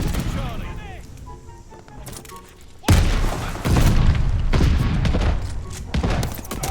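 In the shooter game Call of Duty: Vanguard, a grenade goes off with a sudden heavy boom and is followed by rumbling, crackling blasts and gunfire. Someone talks excitedly over the noise.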